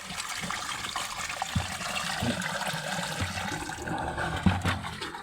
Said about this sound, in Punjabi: ਇਹ ਪਾਣੀ ਨੂੰ ਆਪਾਂ ਇੱਥੇ ਸਾਈਡ 'ਚ ਡੋਲ ਦੇਵਾਂਗੇ।